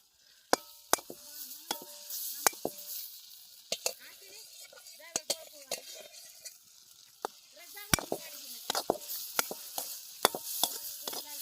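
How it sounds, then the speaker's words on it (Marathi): Spinach and chutney fry in a pan over a stone stove outdoors on a farm, with a soft sizzle under sharp, irregular clinks and scrapes of a spoon against the pan and a nearby voice. "चटणी टाकली भाजी टाकून घेऊ"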